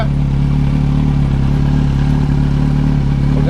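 A 2003 Yamaha R1 motorcycle engine idles steadily after a fuel pump change, a loud, close, even hum with a constant low throb and no talk.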